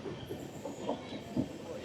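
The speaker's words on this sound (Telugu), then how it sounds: "ట్రైన్ ఒంపులు ఒంపులకి వెళ్తుంది" The Araku mountain railway train rolls along a winding track, giving a rumbling, uneven run of wheel and carriage noise with occasional louder knocks, heard close from on board with faint voices mixed in.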